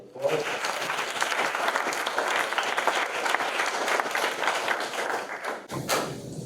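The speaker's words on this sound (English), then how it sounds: "first round of applause." A room full of people claps steadily for several seconds, a dense, even round of applause that cuts off near the end.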